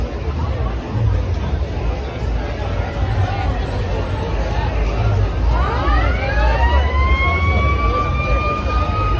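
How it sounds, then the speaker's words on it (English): Over a busy crowd murmur on Ocean Drive, South Beach, Miami, a wailing siren rises in and sweeps upward as the fire engine draws near, loud and close. "Here comes that fire engine coming right at us."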